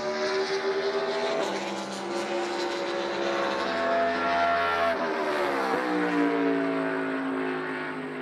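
NASCAR Cup Series race cars roar around the track during qualifying at the 2022 Enjoy Illinois 300 in St. Louis, with steady, loud engine drone and pitch shifts as cars pass, continuous over the whole stretch.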